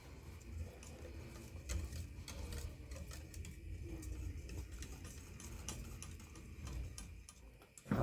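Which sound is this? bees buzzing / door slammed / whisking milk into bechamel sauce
whisking milk into bechamel sauce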